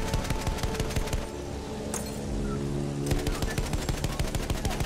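Rapid machine gun fire in Battlefield 1, loud close bursts of tightly spaced shots with a brief pause in the middle before the rattling resumes.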